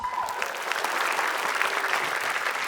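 A small group claps briefly in steady, close applause lasting under three seconds.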